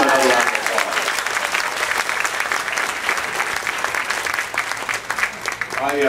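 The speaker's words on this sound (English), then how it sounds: "Please give another round of applause." Sustained, loud audience applause fills a political endorsement event for Charlie Crist, a dense, steady wash of clapping with some crowd voices mixed in and no break.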